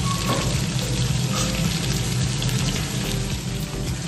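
Flat beans and pumpkin fry together in a hot pan for a mixed-vegetable khichuri, giving a loud, steady sizzle that fills the whole stretch without pause and with no voices.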